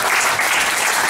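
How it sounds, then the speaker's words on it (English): Dense, loud audience applause at a Hong Kong business networking meetup fills the whole brief moment, steady and close with no pause. "Round of applause."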